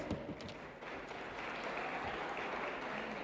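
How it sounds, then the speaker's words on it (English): Applause from the audience at a Jamaican teachers' colleges quiz semifinal, a broad steady wash of many hands clapping in a hall, sustained throughout. "Give them a round of applause."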